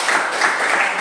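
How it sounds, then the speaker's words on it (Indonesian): A classroom of students applauds a presenting group during a biology lesson, brief, continuous clapping heard close and fairly loud. "berikanlah tepuk tangan buat kelompok 1"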